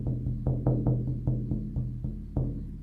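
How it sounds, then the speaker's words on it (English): A shamanic journey drum pounds out a steady, fast, even beat of deep resonant strikes, close and unaccompanied, each hit ringing briefly into the next. "the drum is going to sound like this"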